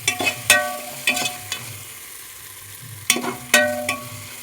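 Herbs and mint being dry-roasted without oil in a pan, stirred in scattered bursts of scraping and light sizzle, with quieter gaps between the stirs.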